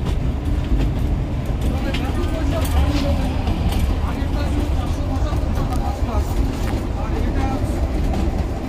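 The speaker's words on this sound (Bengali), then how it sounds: "আমরা এখন টয় ট্রেনে সিমলা কালকা মেলে।" The Shimla–Kalka toy train, the Himdarshan Express, rolls along with a steady, close rumble and rattle of carriages that stays loud throughout, with faint voices blending into the noise.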